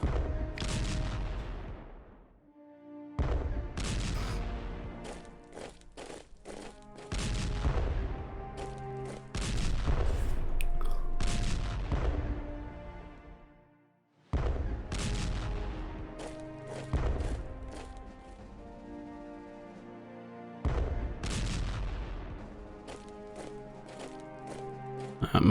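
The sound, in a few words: tank battle gunfire and artillery in video game Strategic Command WW1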